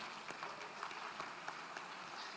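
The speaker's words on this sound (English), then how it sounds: "Please, a round of applause for them." Applause for performers at a centenary celebration in Kumasi, a faint, distant wash of many hands clapping, steady and diffuse for a couple of seconds, with a murmur of crowd underneath.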